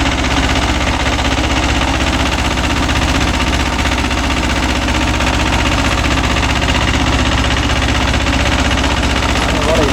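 A Mahindra 265 DI tractor drives a 36-blade rotavator, its engine running loud and close in a constant, throbbing drone with the rumble of the working blades, unbroken throughout.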